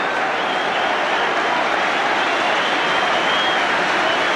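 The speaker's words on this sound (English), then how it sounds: "Great applause for Frank Stapleton as he comes off" A steady, dense wash of applause from a large football crowd at a 1990 FA Cup tie between Blackburn Rovers and Aston Villa, sustained and loud throughout as a substituted player leaves the pitch.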